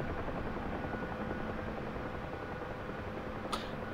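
Helicopter engine and rotor in the DCS combat flight simulator make a loud, constant whirring roar with no break, and a brief click near the end.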